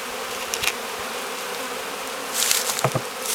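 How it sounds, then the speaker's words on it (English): A dense, steady buzz of many honey bees hums close by as they are knocked and poured into a hive, with a few brief knocks and scrapes over it. "he's just knocking the bees down, and he's just going to pour them in there just like water"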